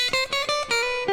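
A quick electric guitar lick of about six picked notes in a brisk run, clear and up close with no other sounds.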